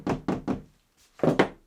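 Wooden Shaker door joints, glued, are gently knocked into place: three steady knocks, a pause, then two more close, solid wooden thunks.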